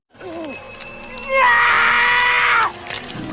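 A man's high, strained scream rises and holds for about a second before cutting off, preceded by a short wavering vocal cry; no words are spoken.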